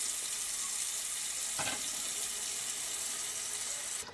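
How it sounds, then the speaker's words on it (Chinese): Torn oyster mushrooms are washed in a basin of clean water, giving a steady running-water hiss with a brief splash partway through, close and continuous, with no voices. "用清水清洗干净。"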